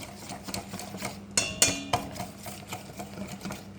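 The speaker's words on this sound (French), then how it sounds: "Je peux commencer à le mélanger un peu." A spoon stirs melted chocolate in a bowl, making soft repeated scraping taps with a few sharper clinks against the side, close and fairly quiet.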